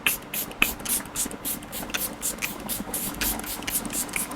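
Charlotte Tilbury makeup setting spray is misted in a quick series of short, close hissing spritzes, a dozen or so bursts in an uneven rhythm, with no talking.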